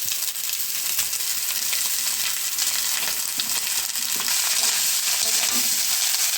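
Leftover day-old rice tipped into a pan with frying egg, a continuous bright sizzle and crackle of hot oil with scraping and stirring textures throughout, close and fairly loud, no voices.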